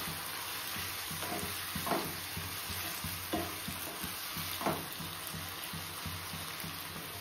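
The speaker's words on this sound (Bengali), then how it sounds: "এর মধ্যে আছে হচ্ছে আদা আর লঙ্কা বাটা, আর আছে ধনে গুঁড়ো, জিরে গুঁড়ো, হলুদ গুঁড়ো আর লবণ দিয়ে ভালো মতো কষিয়ে নেব।" Ginger-chili paste with ground coriander, cumin, turmeric and salt being stir-fried in a pan for a Bengali lunch: a steady close sizzle broken by repeated scraping strokes of a spoon, no talking.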